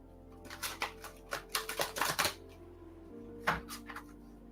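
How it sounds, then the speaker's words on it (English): Tarot cards being shuffled, a series of quick papery riffles and taps in close succession, then a short pause and a few more soft flicks, faint and close with no talk. "Not the easiest to shuffle,"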